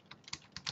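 Short, close burst of typing on a computer keyboard, with a few distinct key clicks in quick succession.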